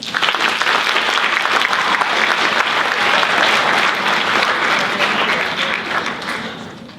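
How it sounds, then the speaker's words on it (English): Sustained audience applause at a school poetry recitation competition, honoring the panel of judges; dense, steady clapping from a full room that holds loud throughout and begins tapering off near the end. "Let's give another round of applause to our panel of judges."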